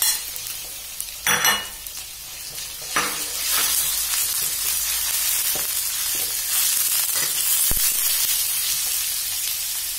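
Chopped chicken sizzles loudly in a hot pan with minced garlic after a few clanks, the frying hiss swelling into a steady crackle with occasional utensil knocks.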